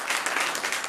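An audience applauds loudly at a Diwali program, a dense, even burst of clapping heard close and alone.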